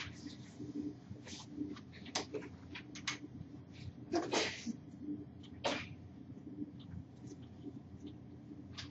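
A single sharp sneeze bursts out in a quiet lecture room, loud and brief amid faint murmurs and low room hum, with a few scattered clicks and rustles around it.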